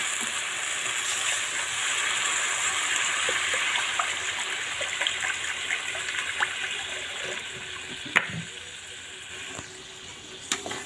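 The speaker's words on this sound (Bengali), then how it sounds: "আমি এর মধ্যে পরিমাণ মতো জল দিয়ে দেবো" Water poured into a pan of katla fish curry with well-fried spices, a steady loud hiss and bubbling sizzle throughout, with a few clinks of utensils near the end.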